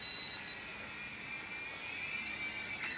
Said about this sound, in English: This helicopter is about to kill us.